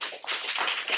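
Audience applause at a graduate testimony session, a dense, steady patter of many hands clapping at close range for about a second.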